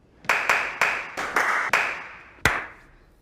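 A handful of sparse, uneven hand claps, about seven sharp slaps with a little room echo, as if from a few people in a small space.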